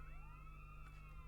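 A wailing electronic ambulance siren in the video game Rescue 2 Everyday Heroes sweeps up and down steadily over a low hum, faint and synthetic-sounding, with no voices.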